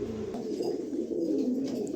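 Pigeons coo in a continuous low, burbling drone, moderately loud and close, without any speech over it.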